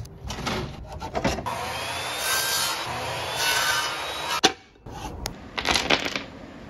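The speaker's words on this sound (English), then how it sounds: "So I set the miter saw to 15 degrees and started the cutting." A miter saw set to a 15-degree angle cutting through wood, a close whirring blade rasping through the piece with a sharp clack as the cut ends, then short bursts of handling and a second cut.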